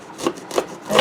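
A knife slicing the tops off bell peppers for stuffing, three soft close-up cutting strokes in an even rhythm with no talking.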